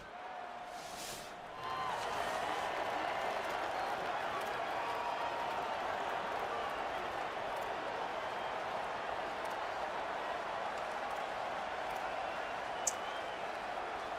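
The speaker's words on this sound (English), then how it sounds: "this crowd, full throat, spreading the eardrums and letting them know it's going to be a long day" Steady, full-throated roar of a stadium crowd at Doak Campbell Stadium in Tallahassee, Florida, in College Football 27, a constant wash of cheering that swells after a quiet start, with an announcer talking over it.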